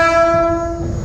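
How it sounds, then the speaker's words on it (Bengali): A train sounds its loud horn at the Kuntipara railway level crossing, a strong sustained tonal blast close by, fading slightly as it rolls past. "ট্রেন আসছে।"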